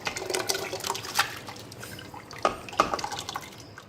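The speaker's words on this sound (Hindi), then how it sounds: "ये जो हमने दलिया भिगाया था उसका पानी है ये, वो भी हम डाल देंगे।" Soaked porridge water poured from a container into a pot while making mutton haleem, giving splashy liquid pouring with a few sharper drips and splashes, close and moderately loud, with no talking.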